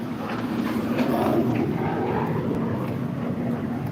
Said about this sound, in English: Finally a jet that's not an F-16.